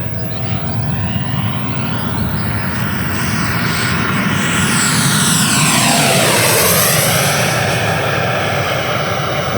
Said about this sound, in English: That's a very nice jet.